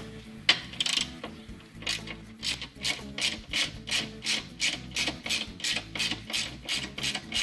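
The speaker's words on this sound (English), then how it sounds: "We're going to start by loosening the outer bolt on the strut tower." Socket ratchet loosening a strut tower bolt under a car hood, with steady repeated clicking strokes in an even rhythm over a low mechanical hum, close and fairly loud, no voices.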